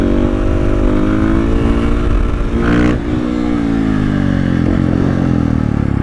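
A 450 supermoto motorcycle rides in third gear with a loud, steady, buzzing single-cylinder engine note held close throughout, briefly dipping and recovering near the middle, with no speech.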